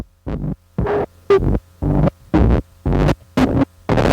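A Circuit Rhythm sampler plays a sample pitched down one octave, giving a deep, throbbing hum that repeats in eight evenly spaced pulses, loud and close with no talk.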